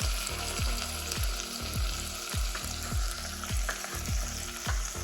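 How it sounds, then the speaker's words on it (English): Tomatoes go into a pan of vegetables frying for a Cypriot turlu seasonal stew, giving a steady loud sizzle with a regular rhythm of stirring scrapes about twice a second throughout. "Now I want to put down my tomatoes."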